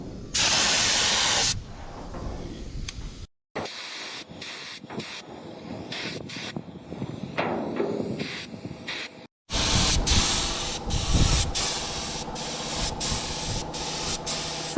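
Spray gun applying primer coats to a DIY expedition camper box on an ex-army Unimog, with loud, steady hissing bursts interrupted by brief pauses, close up and with no talking.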